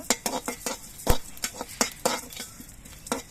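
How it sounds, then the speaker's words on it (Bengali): A utensil scrapes and clinks against a pan in quick, uneven strokes as cinnamon pieces, cardamom and cloves are stirred, with a faint sizzle underneath. "এবার এই মশলাগুলো আমি ভেজে নেব"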